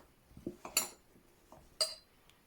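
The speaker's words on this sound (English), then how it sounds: "I'll start putting it back into its case" A Czech Prema alcohol stove's metal parts being packed into their case give a few sharp, close clinks and taps at uneven intervals, with quieter rattles between, and no voices.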